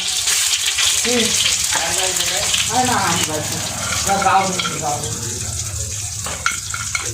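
Whole cumin seeds and dried red chillies frying in hot oil, cooked for a wedding feast, give a continuous loud sizzle with faint clattering, while a voice talks over it.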